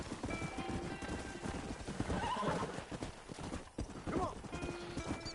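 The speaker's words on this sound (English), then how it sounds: "The stamina, the horse has just got no stamina." A horse in the Western video game Red Dead Redemption gallops with rapid hoofbeats and lets out whinnies, continuous and fairly close, mixed with game ambience.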